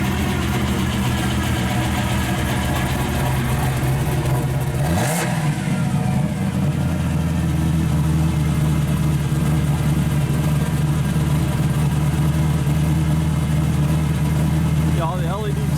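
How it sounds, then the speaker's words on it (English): A 1970 Chevrolet Camaro SS with a 350 V8, gear drive and 2.5-inch dual exhaust idles steadily with a deep rumble and one brief rev midway, while someone talks over it. "It's a very, very strong running motor in it."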